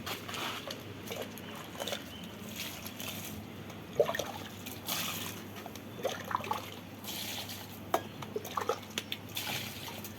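Rotted mustard-cake liquid fertilizer poured onto garden plants, a faint steady trickle and dribble with a few soft splashes over quiet outdoor background, no talk.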